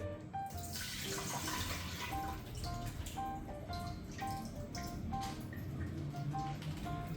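Water from a sachet running into a cooking pot in a Ghana kitchen, a steady splashing flow heard close and continuous, with faint electronic beeping tones repeating in the background and no talk.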